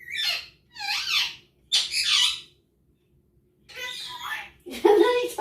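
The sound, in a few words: pet bird squawking in the kitchen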